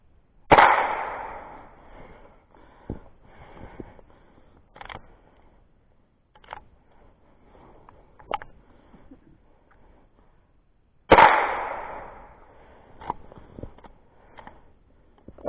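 Two sharp rifle gunshots while rabbit hunting outdoors, one near the start and one about ten seconds later, with faint small clicks and handling noises in between.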